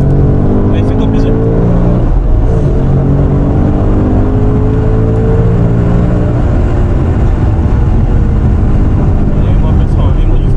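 A 2024 Ford Mustang Dark Horse accelerating hard on a race circuit, a loud, sustained engine roar with rising gear pulls heard from inside the car, while an instructor talks over it.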